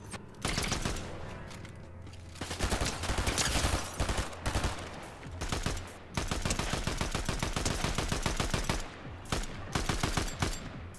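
An Enforcer AR fires in a crown-win battle royale video game in rapid, loud automatic bursts, with dense sustained volleys and short pauses between them and no voices.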